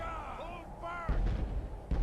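Cannon artillery from the Empire faction booms in the Medieval 2 Call of Warhammer mod: two heavy, thudding blasts land in the second half, after a stretch where someone talks over faint battle ambience.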